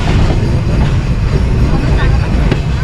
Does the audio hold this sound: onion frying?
no